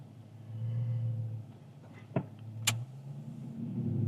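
A 2023 Dodge Challenger R/T rolls slowly over a speed bump, a low muffled engine hum with two sharp suspension thumps and a faint rattle, no talking.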